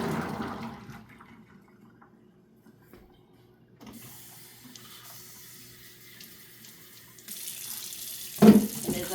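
Tap water runs onto soaked, sprouting garbanzo beans in a tray, starting and stopping in short bursts with a steady splashing hiss, then a louder gush near the end.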